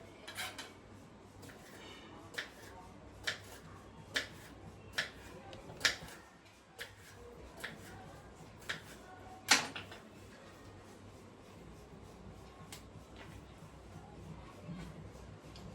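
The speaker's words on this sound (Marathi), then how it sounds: "आता हे पटापटा मी सगळे चिरून घेते" Ivy gourd (tondli) is chopped with a knife on a board, the blade landing in a string of sharp, separate taps at irregular intervals over quiet background noise, close and fairly faint.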